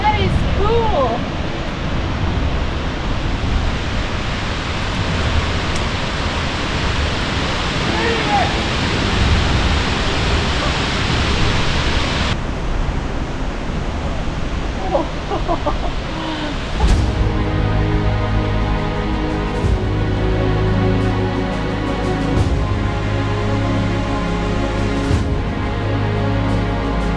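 Wallaman Falls waterfall gives a constant, broad rushing roar throughout, with a tonal musical layer joining over the roar in the second half.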